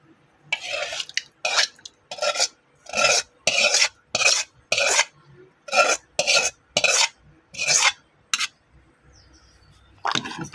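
Dal milk payasam with sago being stirred in a pot, a ladle scraping in about a dozen regular rasping strokes with short gaps between them, close and clear with no talking.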